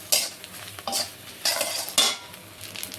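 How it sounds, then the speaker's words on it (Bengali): Onions and dried red chillies frying in a pan for tarka dal, with a soft sizzle under repeated scraping strokes of a spoon stirring against the pan, close and fairly loud, no talking. "এবার এগুলোকে একটু ভালো করে লাল লাল করে ভেজে নেব।"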